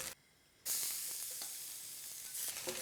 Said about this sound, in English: We're gonna use the same pan to saute the garlic, onion, and tomatoes.